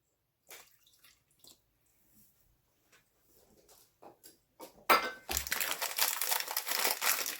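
Milk poured into a bowl for banana bread batter: a few small clinks and rustles, then a sudden steady liquid pour that runs close and moderately loud to the end.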